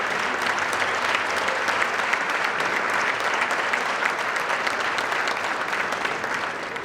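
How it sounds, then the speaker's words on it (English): Sustained audience applause at a gala dinner, a dense, even roar of clapping that keeps going at a constant level for several seconds. "Let's give her a big round of applause."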